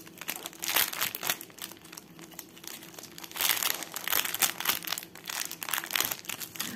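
Plastic packaging of a cross-stitch embroidery kit crinkles and crumples in bursts as it is handled and opened up close, with a few quiet tearing moments between the louder rustles.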